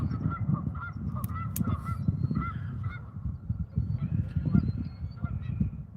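Repeated loud honking from a nearby goose, harsh calls coming in quick uneven bursts throughout, with a couple of brief sharp clicks early on and no speech.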